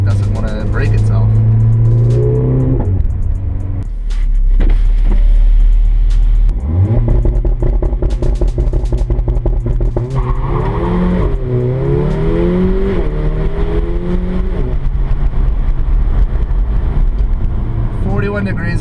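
A Mercedes CLA45 AMG with all-wheel drive accelerates hard on a wet road. Its engine revs up loudly and climbs through repeated gear changes, under nearly continuous talk.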